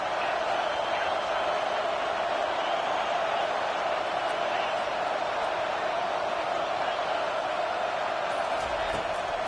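Football stadium crowd noise, a steady distant roar of a large crowd filling the whole stretch at an even level, with no distinct cheers standing out.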